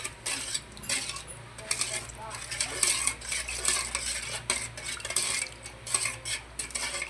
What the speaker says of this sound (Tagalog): i-mix natin, tutunawin muna natin yung ating gulaman